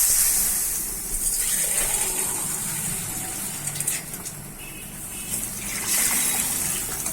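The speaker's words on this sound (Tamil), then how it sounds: "ரெண்டு சொம்பு தண்ணி ஊற்றிக்கோங்க." Water is poured into a cooking pot to make wheat upma, a soft, steady trickling and splashing that swells and fades, with a faint background hum and no talking.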